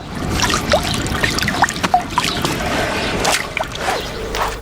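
Willow wicker rods being soaked in water for weaving, with irregular splashes, trickles and drips close by, sloshing on and off over several seconds.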